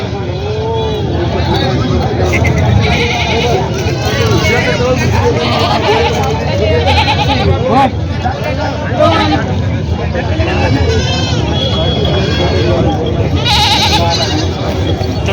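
Many goats bleat over and over amid the crowded Vasmat goat market in Hingoli district, with a dense babble of voices and occasional vehicle noise in the background.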